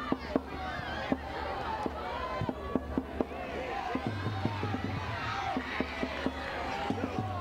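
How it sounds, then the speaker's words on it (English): Crowd noise at an under-16 schools football match, a steady murmur of spectators with scattered shouts and sharp ball or foot thumps, heard under ongoing commentary. "The crowd really getting so into this"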